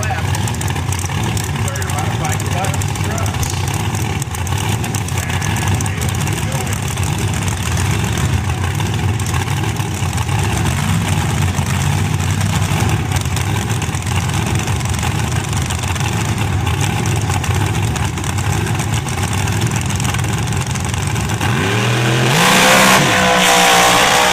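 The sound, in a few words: drag race car with 632 cubic inch big block Ford engine, nitrous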